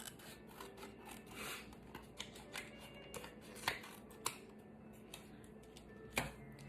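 Scissors cut coloured paper shapes for a Matisse-style collage, giving quiet, close snips and rustles with a few sharper clicks scattered through an otherwise faint background.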